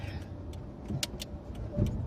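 A 1999 Ford Fiesta Mk4, engine already warm, hums low and steadily from inside the cabin while driving. Short clicks and faint rattles sound over the drone, and nobody speaks.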